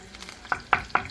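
Curry leaves drop into hot oil for amla rasam, giving three quick, close sizzling crackles spaced evenly over about a second.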